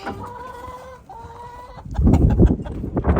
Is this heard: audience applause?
no